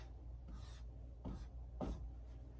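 Marker or chalk writing the letter F on a board during a music theory lesson: a few short, faint scratchy strokes spaced apart against a quiet room, with no talking.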